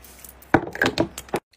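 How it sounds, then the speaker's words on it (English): A handful of quick spritzes from a Kosas cosmetic spray bottle in close succession, short soft bursts of mist, then silence. "now I'm gonna do some of my Kosas spray"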